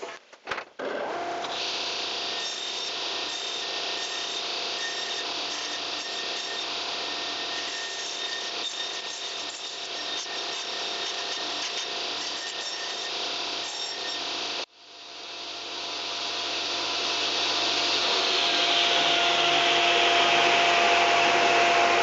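A saw blade cuts wood for a closet partition, a long steady loud grinding whine with a brief break, then the blade resumes and builds again.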